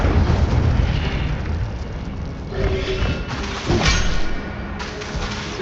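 A fiery Incendio spell bursts in Hogwarts Legacy, a loud rumbling whoosh and boom of flames with sustained blasts and crackle filling the clip, louder surges near the middle.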